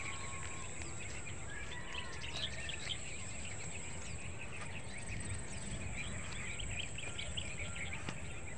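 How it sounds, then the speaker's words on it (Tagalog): Crickets chirp in a steady, faint, high-pitched drone outdoors on the way home, with a few scattered bird calls over a soft background hum; no one speaks. "Huli ng kuliglig."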